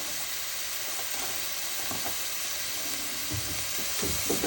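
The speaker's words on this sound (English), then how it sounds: "We're going to saute it in a little bit of olive oil" Finely chopped onion sizzles steadily in a little olive oil in a pan, a continuous close hiss with a few soft stirring scrapes toward the end and no talking.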